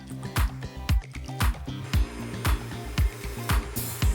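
Dough for Spanish fartons, made from flour, eggs, caster sugar, salt and yeast water, is kneaded in a regular rhythm of soft squishing thumps, about two per second, close and alone.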